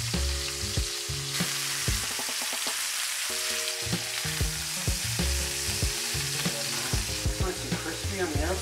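Venison heart cutlets fry in a pan of fat cut with oil for a Jägerschnitzel, a steady loud sizzle with repeated clanks and scrapes of stirring, no voices.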